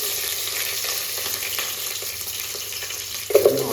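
Green chillies fry in hot oil in a home kitchen pan, giving a steady broadband sizzle that holds evenly throughout, with a brief louder spatter or stir near the end.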